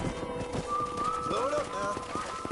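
Horse hooves clip-clopping in Red Dead Redemption 2, a steady rhythmic patter of hoofbeats close by, with a voice speaking over them.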